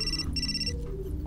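A telephone rings in the video game Still Life 2, two bright electronic ring bursts in quick succession, close and clear over a low background hum.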